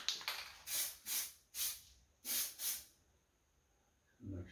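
A spray can hisses in five short bursts, then one longer pair, coating a Holden HQ GTS 253 engine in Rocket Red paint; each burst is close and loud, with quiet gaps between.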